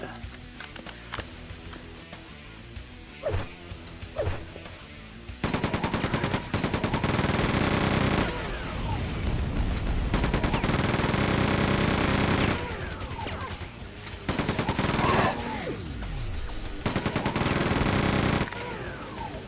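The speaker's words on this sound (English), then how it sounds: "chain gun doing some good work there" Rapid, loud bursts of chain gun fire in Quake II, long sustained streams of rattling shots broken by brief pauses, with a few separate thuds and impacts in between.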